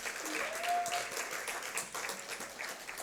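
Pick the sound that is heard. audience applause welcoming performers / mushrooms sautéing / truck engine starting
audience applause welcoming performers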